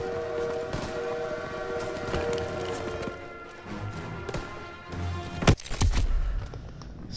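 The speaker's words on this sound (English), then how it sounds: "Crowley, train's leaving!" A train pulls away in a World War video game, rumbling and clanking with a whistle-like tone, then a sharp burst of gunfire-like impacts near the end, no voices.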